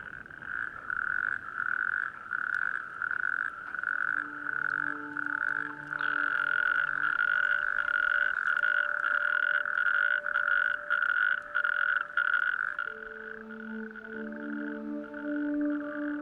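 Natterjack toads call in a loud chorus at a breeding pond, a continuous rolling trill from several animals overlapping close by, with other croaks joining in, and nobody speaking.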